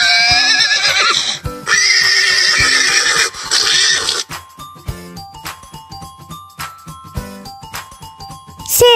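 A horse whinnies loudly and shakily for about four seconds, with a brief break partway through, then gives way to a bright, tinkling melody with chime-like notes.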